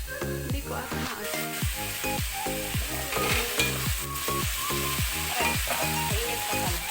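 Pumpkin stir-fry (ginisang kalabasa) sizzling in a hot pan, with a rapid, regular series of scraping and knocking strokes as it is stirred, close and fairly loud over continuous frying hiss.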